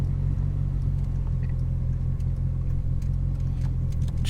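A 3.2 VR6 engine in a two-door Mk4 runs on a dyno, a loud, steady low rumble with a constant droning hum and faint mechanical ticks, with no talking.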